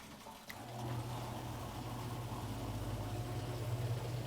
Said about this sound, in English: let it drain while running the disposal to rinse everything out